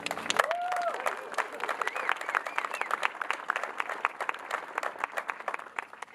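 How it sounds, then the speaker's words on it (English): A crowd claps at the opening ceremony of a birds-of-prey center, dense applause that gradually thins into scattered claps, with a brief whistle-like tone near the start. "I want to give them a round of applause"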